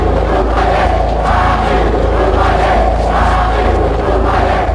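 A huge crowd of about 80,000 chants at a boxing match in the ring arena, a loud, rhythmic roar of massed voices with pulsing surges, heard close and continuous throughout.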